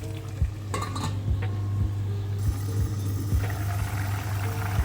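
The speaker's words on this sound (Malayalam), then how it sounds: "ചെമ്മീൻ ചേർത്ത് നന്നായിട്ട് ഇളക്കി യോജിപ്പിക്കുക." Prawns being stirred in a pan for a prawn roast, with regular metallic scrapes of the spoon against the pan about every half second over a steady low sizzle.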